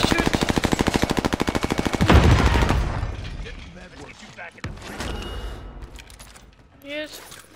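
Rapid automatic gunfire from Call of Duty Warzone, a loud, steady stream of shots for about two seconds, then a heavy burst and a decaying rumble with scattered clicks and thuds.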